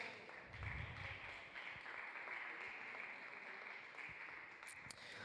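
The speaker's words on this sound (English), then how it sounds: "Give them a round of applause" Faint, distant applause for the sprint race podium finishers at an indoor racing event. It is a steady wash of clapping that holds evenly throughout.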